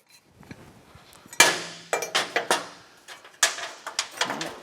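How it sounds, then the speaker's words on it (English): A wrench breaks loose the four 15 mm bolts holding a Polaris frame strut during clutch removal, giving a series of sharp metallic clanks and clicks in irregular bursts, close and fairly loud, with no talking. "It's only held in by 4 15 millimeter bolts. So let's get those broken loose so we can get it out of the way."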